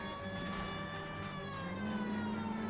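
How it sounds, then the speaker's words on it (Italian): A police car siren in the video game L.A. Noire wails in a steady, continuous tone over engine rumble, loud and close throughout. "Oppure la sirena accesa."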